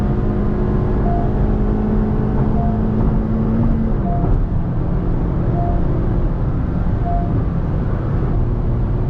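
A loud car on the move, with a steady, dense engine and road roar filling the whole stretch, a sustained low tone dropping partway through as it continues driving, close and constant with no talking.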